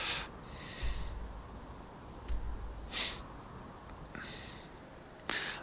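A horse in a video game gives several short, breathy snorts spaced a second or two apart, fairly quiet and close, with no speech over them.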